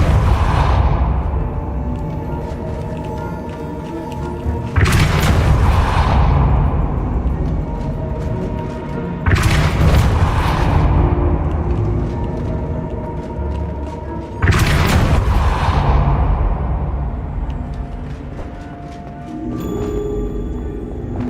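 Four forceful Depulso spell blasts from Hogwarts Legacy go off at steady intervals, each a sharp whooshing burst that decays into a rumbling boom over a low ambient game backdrop.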